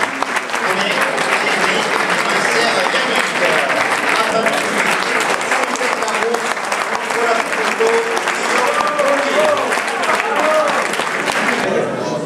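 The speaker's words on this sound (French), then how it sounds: "sous les applaudissements du public pour Johan Desmoulins, Nicolas Portal" Sustained applause from a large audience at a cycling race podium in Mauvezin, France, steady and dense for the whole stretch, with faint voices and cheers mixed into the clapping.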